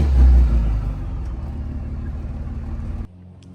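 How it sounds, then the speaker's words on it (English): A truck engine idles and rumbles loudly up close while reversing toward a boat at a cement wash-down area, a steady low drone that drops off abruptly near the end. "Man, this truck sounds good."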